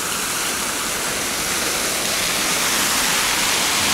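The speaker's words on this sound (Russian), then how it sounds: "Фонтанчик, кто любит фонтанчик" Water splashing steadily from a fountain on an evening walk in Alanya, a close, loud, continuous rushing spray with no voices.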